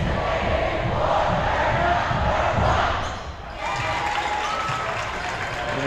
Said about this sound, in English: And rowdy crowd fired up.